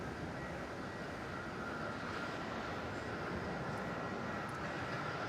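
A Qantas Boeing 787-9 Dreamliner taxiing at Melbourne Airport gives a steady, distant engine rumble and broadband roar that holds evenly throughout, with no voices.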